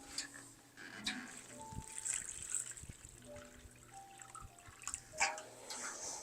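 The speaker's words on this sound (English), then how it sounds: "then we will fill up our tray halfway with water." Water trickling and dripping into a seedling tray of freshly sown seeds covered with soil, a quiet uneven run of small splashes and drips, close by with no talk.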